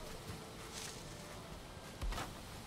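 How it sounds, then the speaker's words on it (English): Bees buzz steadily around a beehive hung on a post in the Viking survival game Valheim, a soft, continuous insect hum with faint rustling and no talking. "The bees are happy. I think they're liking this."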